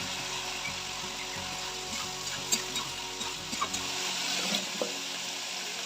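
Spice paste and fried potatoes sizzle in a pan, a soft steady frying hiss with light scraping stirs and a few small clinks, fairly quiet and close.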